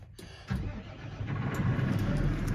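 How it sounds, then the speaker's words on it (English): Case Puma 260 CVX tractor with keyless start firing up, a short crank followed by the engine catching and settling into a steady, close, low diesel rumble. "She's starting up, everything's booting up."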